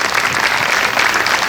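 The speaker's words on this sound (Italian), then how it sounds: "facciamo un applauso a tutte loro perché credo lo meritino" Dense, loud applause from a crowd at the Miss Italia Veneto regional final, clapping steadily for the contestants with no break.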